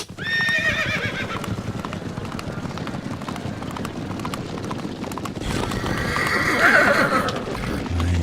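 A horse whinnies loudly at the start, then steady hoof clip-clops continue close by, rising toward a second brighter whinny near the end.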